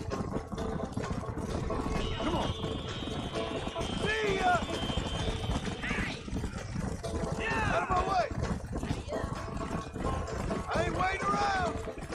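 Rhythmic clip-clop of a galloping war horse's hooves in Red Dead Redemption 2 runs under steady noisy background and talking voices, with occasional sharp whooshing sweeps.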